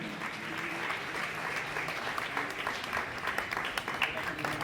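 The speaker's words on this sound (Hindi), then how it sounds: "हम सभी हमारी जोरदार तालियों के साथ इस बात का अभिनंदन करें" An audience at an award ceremony honouring Sonu Nigam with the Shri Shankar Shambhu Memorial Award 2025 applauds in a steady, sustained wave of clapping that fills the room without pause.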